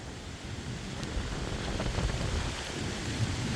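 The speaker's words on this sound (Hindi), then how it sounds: "बड़े ज़ोर की बारिश हो रही है।" Heavy rain falling on sorghum grass in a village during a storm with strong wind, a steady loud broadband wash of downpour and gusts throughout, no voices.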